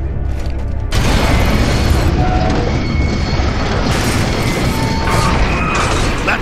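A loud mechanical crash and grinding rumble as a bridge slams into place in the Gears of War 2 video game, sustained and dense with metallic clanks layered over heavy low booms.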